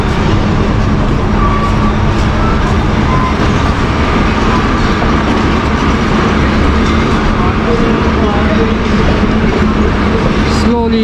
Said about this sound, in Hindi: इकबाल एक्सप्रेस अब रवाना हो रही है